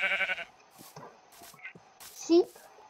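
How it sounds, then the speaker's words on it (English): Short sheep bleats in Minecraft game audio, several brief calls spread over a few seconds among clicks and game sounds, with a louder bleat near the end. "Sheep, you're coming with me."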